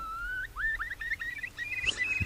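A starling mimics a curlew, giving a series of rising, slurred whistled notes, faint and fairly close, and ends with a brief harsher burst.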